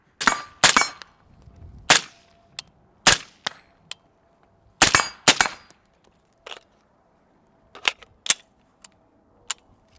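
Rifle rounds striking a steel plate target ring out as sharp metallic clangs and pings, a dozen or so scattered impacts in irregular bursts and singles, crisp and fairly near with quiet gaps between.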